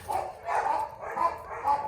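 Dogs barking in a Jamaican backyard, a series of about four moderately loud barks at a steady pace, a little distant.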